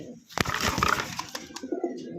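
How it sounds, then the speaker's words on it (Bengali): A pair of Iranian highflyer pigeons coo close by in a few soft throaty calls, with light scuffs and taps between them. "দেখতে পাচ্ছেন এখানে একজোড়া ইরানি হাইফেলার কবুতর আছে"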